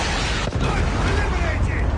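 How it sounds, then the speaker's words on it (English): A predator missile strike in Call of Duty Mobile, a loud dense rumbling blast with a sharp hit near the start, sustained roaring energy filling the moment, game voice chatter mixed in. "Predator missile inbound."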